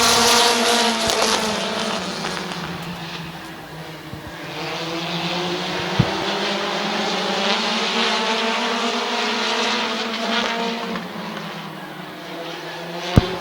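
Race cars on the final lap at Midvale Speedway, loud engine drones rising and falling in pitch as the cars pass and circle the track, several engines overlapping, with sharp clicks and bangs along the way.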